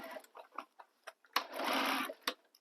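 Sewing machine stitching a bulky tote bag, a run of short ticking stitches followed by a longer steady whirring burst and a final quick stop, fairly close and with no talking.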